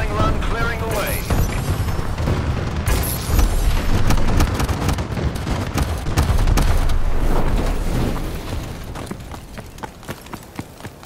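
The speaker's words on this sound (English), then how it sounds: "Friendly bombing run clearing the way." A friendly bombing run in Call of Duty: Advanced Warfare pounds the area with loud, dense, overlapping explosions and crashing booms that roll on without pause before easing slightly toward the end.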